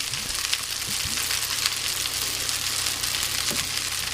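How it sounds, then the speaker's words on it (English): Pad Thai sauce and bean sprouts hit a hot pan at medium heat, giving a steady, close crackling sizzle that fills the whole moment with no talking. "Now, we're going to add this sauce. And some bean sprouts."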